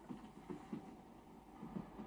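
A railway carriage in motion, heard from inside as a faint, steady low rumble with soft rhythmic thumps from the wheels. No voices.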